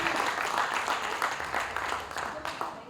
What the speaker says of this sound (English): Round of applause, yeah.